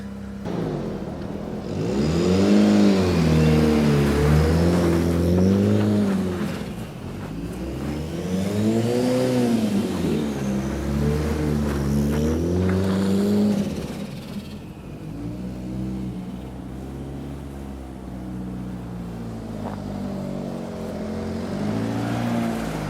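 A DSM car engine revs hard through an all-wheel-drive donut, its loud, rising and falling throttle swells repeating in waves. It then settles to a steadier drone near the end, with no talking.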